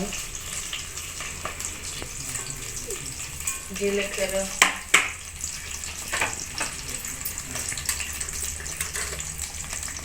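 Onion pieces, curry leaves and cumin seeds fry in hot oil with a steady close hiss and crackle, a few louder pops and clatters of stirring near the middle, while a voice talks intermittently.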